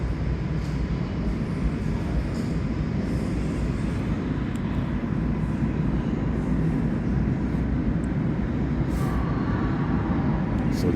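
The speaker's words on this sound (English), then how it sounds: "The train is coming." A New York subway train pulls into 34th Street–Hudson Yards station, a steady loud rumble of wheels and motors filling the platform for the whole stretch, with faint higher squeals near the end.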